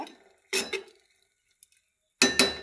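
Lentils frying with spices in a pan, stirred with a utensil: a few short bursts of metal scraping and clinking, close and fairly loud, separated by quiet pauses.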